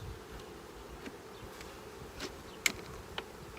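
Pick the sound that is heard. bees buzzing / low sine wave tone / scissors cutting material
bees buzzing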